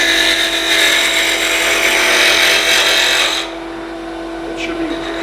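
A wood lathe spins a wooden Christmas ornament as a cutting tool takes a final light pass, making a steady, loud, close whirring scrape that continues for several seconds, then drops off sharply near the end as the cut stops.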